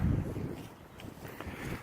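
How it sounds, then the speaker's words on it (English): Wind gusts buffeting an outdoor hammock hung from Gorilla Tree straps, a soft continuous rushing and flapping close to the microphone with no voices. "It's a little bit windy, so it's flipping it."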